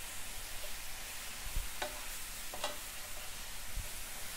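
Spicy enoki mushrooms frying in a pan, a constant even sizzle with a couple of soft utensil scrapes and a low thump partway through.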